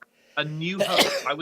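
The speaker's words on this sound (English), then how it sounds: "It's just sneezing." A single close, loud human sneeze bursts out right after a person speaks a few words.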